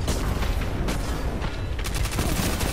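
Gunfire in a Titan-themed shooter video game, with heavy, booming shots and bursts crowding together over a loud, dense battle din that runs throughout.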